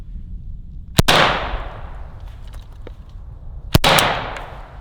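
An AK-47 rifle, caked with mud after a torture test, fires two loud, sharp single shots nearly three seconds apart, each followed by a ringing outdoor echo that slowly fades.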